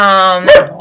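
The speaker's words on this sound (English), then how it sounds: "Sorry about the barking." A dog barks loudly in one brief burst close to the microphone, cutting in at the tail of a sustained tonal sound in a home setting.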